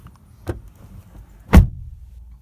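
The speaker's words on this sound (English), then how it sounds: "we'll go ahead and shut the door" Two thuds: a light knock, then a heavier solid slam of a 2018 Honda Civic Type R door shutting, close by in a quiet interior.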